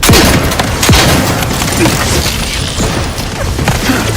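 A grenade explosion in the video game Outer Worlds 2, loud booming blasts with crashing debris and rumbling impacts, a dense chaotic wash of noise filling the whole stretch.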